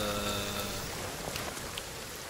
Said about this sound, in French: il pleut toujours au petit matin